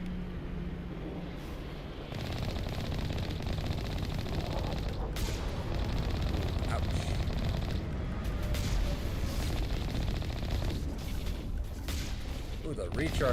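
A vehicle cannon fires repeatedly in the video game Mass Effect Legendary Edition, heavy booming blasts mixed with explosions and rumbling combat noise, loud and dense over a player talking.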